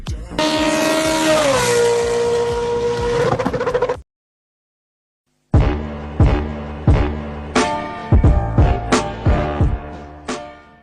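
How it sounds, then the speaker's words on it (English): BMW M3 GTR E46 race car with a V8, revving hard and holding a high howl before cutting off, then after a pause barking through repeated sharp throttle blips and gear changes, loud and near. "All right, now you're in the E46 BMW V8 GTR"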